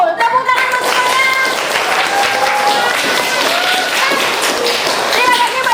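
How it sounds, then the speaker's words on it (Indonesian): Clapping from a classroom group fills the whole stretch, steady and fairly loud, with a teacher's voice and some talk running over it. "Tepuk tangan untuk semuanya."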